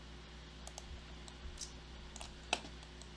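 A computer mouse clicks softly a few times in a quiet room, in light, close taps with one sharper click near the end, faint and unaccompanied by talking.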